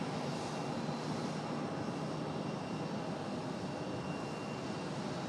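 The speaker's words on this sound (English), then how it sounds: "So the departure of Southwest from 5 right." A Southwest jet departs from runway 5 right at Raleigh-Durham, its engines giving a steady broadband roar that holds constant throughout, fairly distant with no talk over it.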